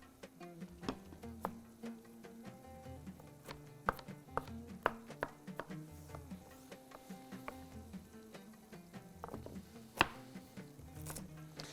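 A knife chops unpeeled carrots on a cutting board, making sharp, irregular taps close by with short gaps between strokes and no talking.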